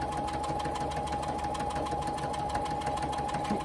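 A sewing machine runs steadily, stitching a 1/4 inch seam along fabric curves, with a continuous close motor whine and rapid needle chatter throughout.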